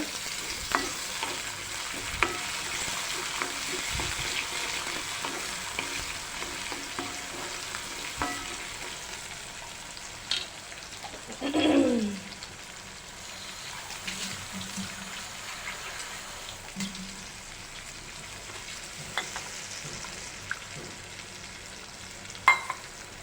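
Chopped tomatoes sizzling in a pan while upma is cooked, a faint steady frying hiss with occasional stirring scrapes and one brief louder burst near the middle.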